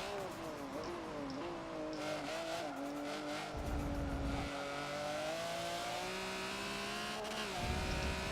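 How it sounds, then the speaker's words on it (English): A Ferrari in a racing video game revs and accelerates continuously, its engine pitch climbing and falling through gear shifts, with brief tire squeals, loud and close throughout. "Driving a Ferrari."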